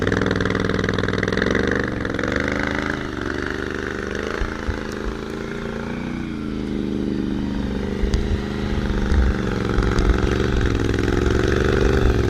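Can-Am Renegade 1000 ATV on Interco Interforce 2 tires crawling slowly through deep mud, its engine running at a steady low idle with gentle throttle swells, loud and close throughout.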